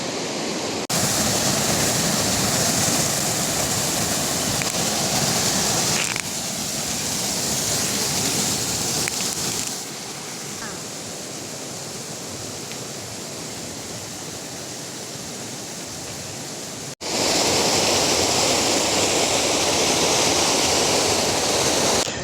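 Strong river water rushes beneath an iron rod bridge near a waterfall in the Valparai hills, a loud, steady roar with no talk.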